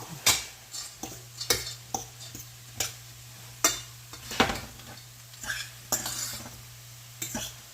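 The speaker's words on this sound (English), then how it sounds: "Give it a stir." Spoon or spatula stirring food in a metal pot on a home stove, a series of sharp scraping and clinking strokes repeating every second or so, with a faint steady hum underneath.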